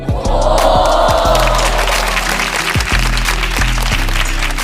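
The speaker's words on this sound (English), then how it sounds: "Editor, can we get a little clap for him before we go?" Applause sound effect for a developer who works in Roblox Studio: a dense, steady burst of clapping from a crowd, loud and close, with a low musical tone running underneath throughout.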